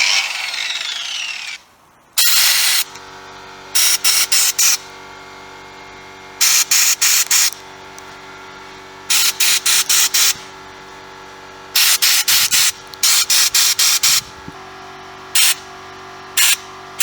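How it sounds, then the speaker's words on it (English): Shot blasting the frame of a GY6 Chinese naked scooter, heard as loud broadband hissing blasts in about eight separate bursts of one to two seconds each, separated by a steady lower hum from the running compressor, with no talk. "Okay, that's the shot blasting done as far as I want to."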